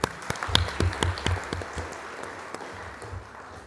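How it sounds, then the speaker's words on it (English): An audience at an academic conference gives brief, scattered applause, a few distinct claps that thin out within a few seconds in a large hall. "A round of applause for all his achievements."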